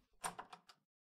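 A door opens in a video game with a quiet run of four quick mechanical clunks lasting under a second, then silence.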